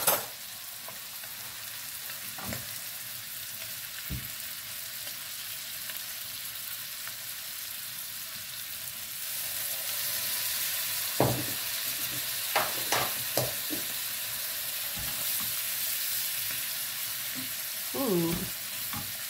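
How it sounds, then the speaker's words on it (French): Vegetables frying in a pan on the stove, a steady sizzle that grows louder partway through, with occasional utensil taps and clinks as they are stirred, close and without talking. "je vais mettre mes légumes à cuire"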